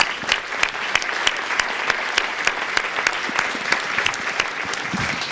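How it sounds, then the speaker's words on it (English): A hall audience at a panel discussion on the Jack Ruby trial applauds Heather Pertula: loud, dense, even clapping from many people that holds steady throughout without pause. "please give her a round of applause"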